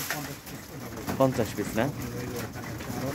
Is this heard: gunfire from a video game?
no